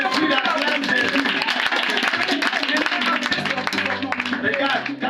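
A church congregation claps and cheers in acclamation of Jesus, a dense, loud crowd sound held steady throughout with voices mixed in.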